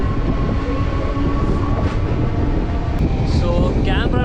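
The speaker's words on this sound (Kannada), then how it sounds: "ಅದಕ್ಕೆ ಫುಲ್ ಸ್ಲೋ ಹೋಗ್ತೆ ಟ್ರೈನು" A train on the Bengaluru to Siddaganga line rolls slowly past works on the track, making a loud, steady rumble with wheel and carriage noise throughout.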